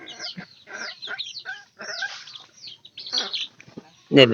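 Chickens on a farm clucking close by in a run of short, choppy calls with brief gaps, ending in a sudden loud squawk.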